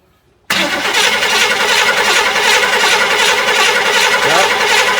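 The carbureted engine of a 1967 Chevy El Camino barn find, with no spark, cranks abruptly and keeps churning in a steady, rough, rapid pulse for over four seconds without catching and running.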